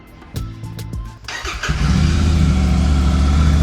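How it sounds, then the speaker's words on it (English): Royal Enfield Super Meteor 650 fitted with a DNA high-performance air filter, heard from the exhaust: a few clicks and a cranking whir, then the twin catches and settles into a loud, steady, deep idle rumble close to the pipe. "give you a listen at the exhaust pipe so you can hear the engine note after the DNA filter has been put on"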